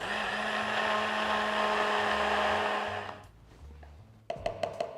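A blender whirs steadily as it blends hot liquid with chocolate, a loud continuous motor whine with a low pulsing undertone that winds down near the end, followed by a few clinks and knocks.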